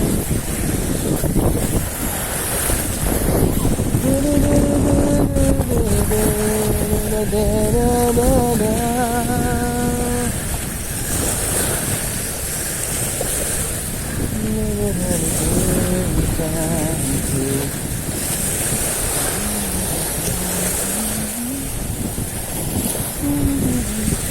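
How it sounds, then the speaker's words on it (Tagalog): Strong wind buffets the microphone at a seaside fishing spot, a steady loud roar with waves and surf beneath it throughout, while faint tonal whistling rises and falls in the middle. "Kung napapakinggan yung mga master, lakas ng hangin."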